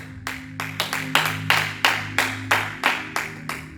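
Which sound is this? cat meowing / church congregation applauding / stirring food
church congregation applauding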